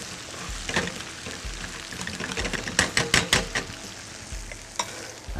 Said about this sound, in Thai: ผัดให้ทุกอย่างเข้ากันพร้อมกับหอมใหญ่สุกนะครับ